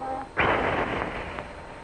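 A tyre with a nail set against it bursts in a single sudden, loud pop that decays into a short hissing rush of escaping air.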